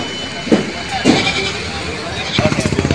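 Goats bleat at a livestock market, with several short calls rising above a bustle of people talking nearby, and a quick run of rapid pulsing bleats near the end.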